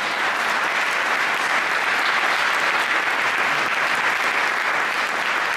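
Loud, dense applause from a large audience at a secularism award ceremony, a continuous wash of clapping at steady volume with no talk over it.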